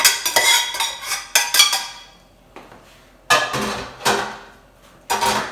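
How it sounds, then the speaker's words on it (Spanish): A ladle or spoon clinks and scrapes against a pot and a blender jar as meatball stew is poured into a blender. Sharp metallic knocks come in bursts with quiet gaps between them, close and clear with no talking. "Lo vamos a echar aquí a la licuadora."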